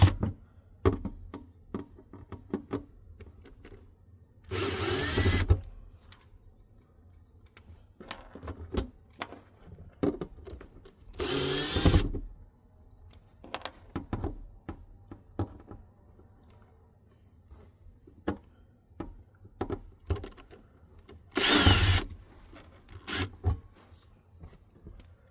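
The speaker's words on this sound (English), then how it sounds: "let's go ahead and take off the 4 screws holding the cover on" Screws being backed out of the fuel pump access cover on a 2022–2026 Subaru WRX (VB) during a fuel pump swap, heard as scattered close rubbing and scraping clicks with a few louder broadband bursts of handling noise.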